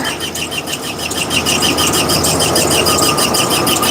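A van's engine runs steadily and loudly close by, a continuous mid-pitched drone with a faint rhythmic pulse throughout.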